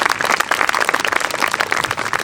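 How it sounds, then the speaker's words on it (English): An audience applauds a brass band at a concert, with dense, steady clapping throughout. "Please give them a round of applause."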